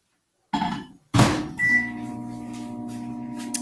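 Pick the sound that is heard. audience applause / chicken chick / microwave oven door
microwave oven door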